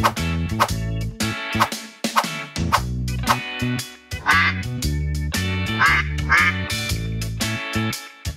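A cartoon duck quacks over and over in a fast, bouncy rhythm. The quacks are loud and close, and no one speaks.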